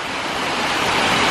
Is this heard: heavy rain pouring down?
yes